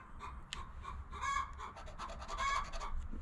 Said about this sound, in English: my neighbors have not complained about the chickens